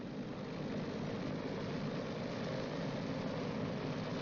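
The four engines of a World War II B-29 bomber run up together to 1,500 RPM, a steady, heavy droning roar that holds constant and loud with no voices over it.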